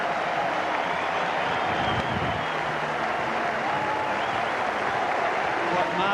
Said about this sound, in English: Standing ovation here for Chris Cairns from the Eden Park crowd.